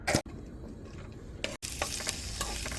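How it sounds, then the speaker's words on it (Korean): Green onions sizzling in hot oil to make scallion oil for a spicy beef soup at an outdoor campsite, a close, steady crackling fry with stirring, broken by two brief dropouts. "파기름 낸다고 생각하면 됩니다."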